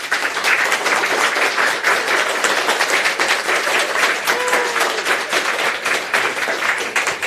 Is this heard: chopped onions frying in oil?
no